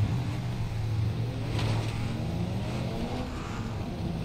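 A car pulls away in the driving game BeamNG.drive, its engine giving a steady low hum that stays fairly quiet and even throughout, with no voices.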